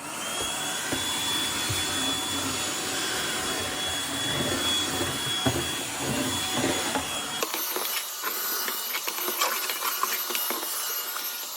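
A vacuum cleaner runs continuously with a steady loud whooshing drone and a thin whine, its tone changing abruptly partway through as the suction shifts, with no talk.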